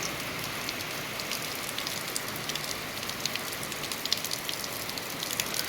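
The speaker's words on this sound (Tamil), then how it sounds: "அந்தளவுக்கு மழை பெய்யுது." Heavy rain pours steadily and densely over farmland prepared for planting, a continuous loud hiss of drops drumming on surfaces with no breaks or voices.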